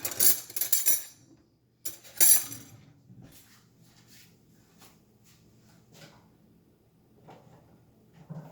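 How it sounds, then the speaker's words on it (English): A knife grabbed from a kitchen drawer with two bursts of rattling cutlery close by, then quieter soft clinks and a faint low hum. "Let me grab a knife here."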